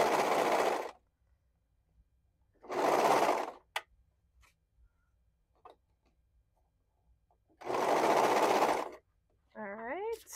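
A sewing machine stitches a neckband onto fabric in three loud, close bursts of rapid stitching, about a second each, separated by quiet pauses with small handling clicks; a voice speaks briefly at the end.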